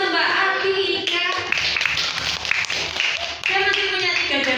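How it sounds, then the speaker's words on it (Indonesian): A group of children clapping for a girl named Atika, a dense, steady round of applause lasting several seconds with young voices mixed in. "tepuk tangan untuk Mbak Atika."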